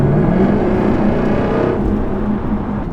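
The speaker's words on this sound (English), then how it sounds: "These accelerations just never get old in these cars." A Jaguar F-Type supercar accelerates hard from inside the cabin, a loud, sustained engine roar with a rising tone that shifts pitch partway through, with no talking over it.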